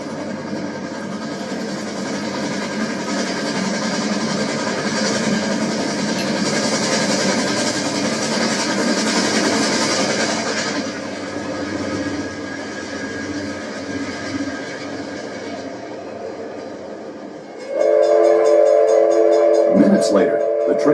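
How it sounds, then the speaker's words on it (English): Santa Fe steam locomotive 3751 rolls past the abandoned Riverside Depot en route to San Bernardino, a broad sustained rumble of the moving train that swells and fades, then a loud, steady whistle blast near the end. "Minutes later, the train passes the now-abandoned Riverside Depot on its way to San Bernardino."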